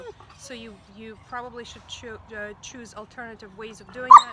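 A dog gives a few short yips and whimpers outdoors in a garden, mostly soft and intermittent under steady talk, with a louder yelp near the end.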